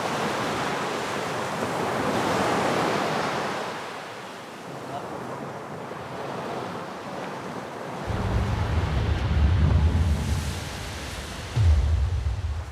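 Ocean waves wash onto the shore of Sao Tome, a volcanic island, with a continuous surf roar and wind buffeting the microphone. A heavier wave surges in toward the end.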